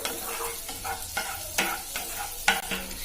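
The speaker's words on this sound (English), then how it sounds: "Now add the finely chopped garlics into this and give it a good mix." Finely chopped garlic sautes in melted butter with a continuous crackling sizzle, punctuated by several sharp scrapes and taps of a utensil stirring the pan, close and clear with no talking.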